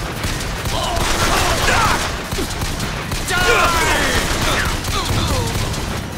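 Rapid gunfire rattles in BioShock Infinite aboard an airship, with dense bursts of shots and ringing impacts, loud and near, mixed with a voice talking throughout.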